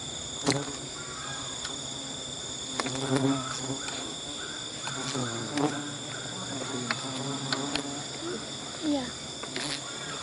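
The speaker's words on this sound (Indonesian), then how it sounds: "Lebah." Bees buzz steadily around an old abandoned factory, a constant drone with insects passing close and fading, under intermittent talking and outdoor background noise.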